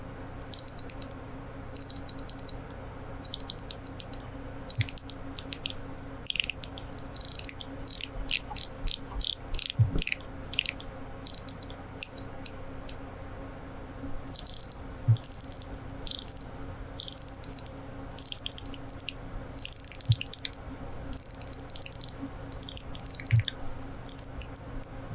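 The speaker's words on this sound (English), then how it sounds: "Now let's compare the bezel action to see if we have any mechanical differences." Grand Seiko watch bezels are turned by hand, producing quick runs of crisp, tiny ratcheting clicks in bursts separated by short pauses, close and quiet with no talking.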